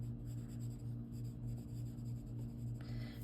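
Pencil or pastel strokes drawing clouds on toned paper, a soft continuous scratching close by over a steady low hum, with no talking.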